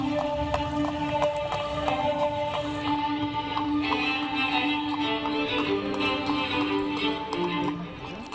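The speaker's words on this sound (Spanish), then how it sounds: "en este caso ya viene montado a caballo" A horse's hooves clip-clop steadily as a rider arrives on horseback at the opening of an outdoor festival parade, the rhythmic taps set against a busy background with a sustained musical tone.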